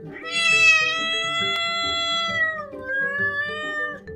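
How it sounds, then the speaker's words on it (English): A cat meows once in a long, drawn-out call whose pitch dips and then lifts again near its end, clear and close with nothing else around it. "Cat."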